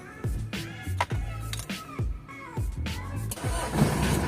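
A diesel Mitsubishi Adventure with a manual gearbox starts on the first try, a short cranking burst that catches and settles into a close, rough idle, lasting a few seconds.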